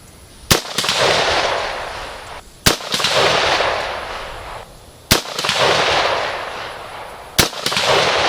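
Four sharp rifle gunshots from a pencil-barrel rifle, evenly spaced about two seconds apart, each a loud close crack followed by a long rolling echo outdoors.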